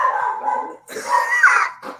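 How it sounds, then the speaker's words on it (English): A dog whines and yelps in drawn-out, high cries, with a short pause before a louder, wavering outburst. "preemptively apologize if you hear my dog barking in the background"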